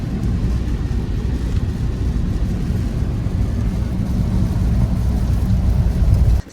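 Rain falling at Luss beach on Loch Lomond, Scotland, a dense, steady rushing wash that stays loud throughout with no voices, then cuts off abruptly at the very end.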